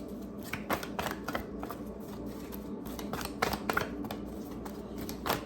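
Moonology oracle cards are shuffled by hand, giving a quiet, close series of papery riffles and flicks in uneven bursts, with no talking.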